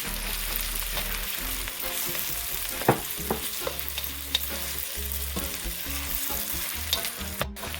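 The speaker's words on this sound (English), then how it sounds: "I'm just going to combine this in with the seasoning and allow it to fry up a little bit before I add anything else" Saltfish and seasoning frying in a pot, a continuous close sizzle and crackle with occasional stirring knocks and scrapes, no voices.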